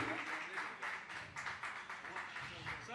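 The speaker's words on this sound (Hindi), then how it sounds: "Guys, थोड़ी तालियां हो जाए जोरदार और जोर से please" An audience at a film production house and calendar launch event gives a short burst of applause, steady clapping mixed with talk, moderately faint.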